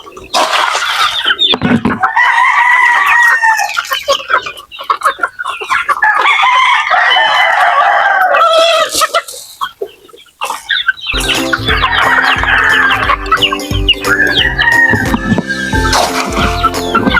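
Native chickens, a flock mostly of hens, cluck and squawk busily at feeding time, with loud overlapping calls and a rooster's crowing mixed in throughout.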